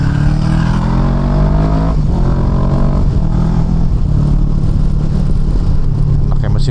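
A Kawasaki Versys 650 motorcycle engine roars loudly and steadily while riding on an Indonesian road, its revs rising and falling in the close, dominant drone with some wind noise, without talking.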